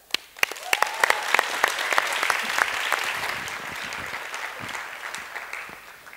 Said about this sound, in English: let's give a big round of applause for Jean Uchupalanan